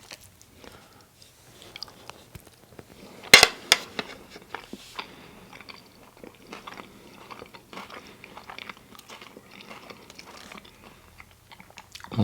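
Crispy crumbed chicken parmigiana being chewed and bitten, with a sharp crunch near the start followed by steady, quiet mouth sounds and small crunches throughout, close up and without talk.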